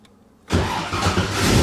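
A car engine cranks and fires up after a wireless anti-theft kill switch is switched on, following a brief quiet moment, then settles into a steady close running rumble.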